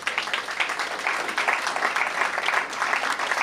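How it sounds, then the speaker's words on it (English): An audience applauds at a campus ribbon cutting ceremony, a dense, steady round of clapping lasting the whole stretch without letup. "That deserves a round of applause."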